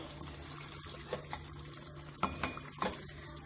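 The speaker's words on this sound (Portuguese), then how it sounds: "Vou deixar só refogar mais um bocadinho e vou colocar uma pouquinha de água." Water is poured into a pan of pork cheeks sautéing with onions, giving a soft, steady trickle and sizzle over a low kitchen hum, with a few sharper clinks near the end.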